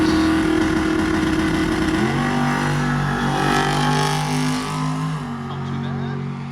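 A drag race car at the Winter Nationals in Brisbane, Australia, runs hard down the quarter mile, its loud engine note holding steady and then shifting pitch as it pulls away and gradually fades.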